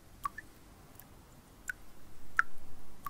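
Water drips one at a time into a glass or container, four or five sharp, separate plinks spread out at an irregular pace, close and fairly faint, against a quiet background with no one talking.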